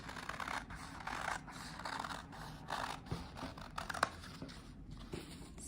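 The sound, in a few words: scissors cutting a square of fabric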